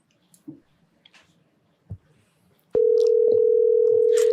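After a few quiet rustles and a soft thump, a phone call's line tone starts abruptly and holds as a steady, loud, even electronic hum to the end.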